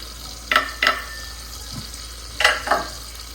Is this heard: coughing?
no